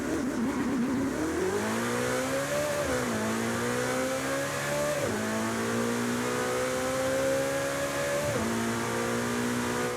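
Ferrari California T engine in Forza Horizon 5, revving up through several gears with distinct drops at each shift, a loud continuous engine note with no talk.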